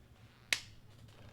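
One overhand clap, a single sharp crack that stands out alone against quiet room noise.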